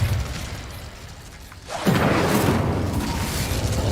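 Incendio fire spell cast in Hogwarts Legacy, a loud whooshing burst that swells suddenly and roars on steadily over a dense game soundscape.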